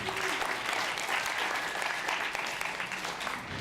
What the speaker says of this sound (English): How about a round of applause for great observation?